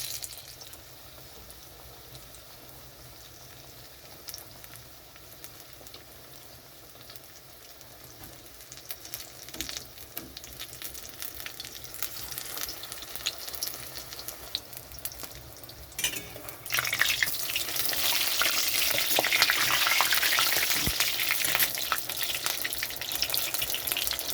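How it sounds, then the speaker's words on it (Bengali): Pumpkin flowers dipped in gram flour batter frying in hot oil in a wok, a soft sizzle that swells sharply and turns loud and bubbly about two-thirds through as more pieces go in. "কুমড়োর ফুলটা খুব ভালোভাবে ডুবিয়ে নিয়েছি বেসনের মধ্যে তো এখন আমি ভাজার জন্য ছেড়ে দিচ্ছি কড়াইতে"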